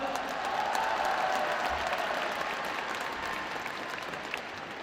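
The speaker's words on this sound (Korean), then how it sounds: "뜨거운 박수를 부탁드립니다." Warm audience applause during a political party leadership candidates' speech event, a dense, continuous wash of many hands clapping at a steady level with no talking over it.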